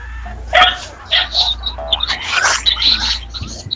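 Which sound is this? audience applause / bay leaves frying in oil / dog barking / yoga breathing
dog barking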